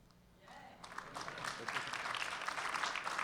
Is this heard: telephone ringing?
no